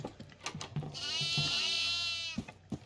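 A goat in the horror video game Devour lets out one long, loud, wavering bleat, with a few short knocks and thumps before and after it.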